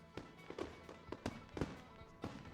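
Fireworks after a Friday night minor-league baseball home game at Constellation Field, with several sharp bursts and pops spaced irregularly over a continuous crowd-and-music background at moderate distance.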